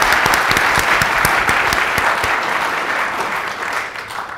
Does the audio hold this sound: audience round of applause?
yes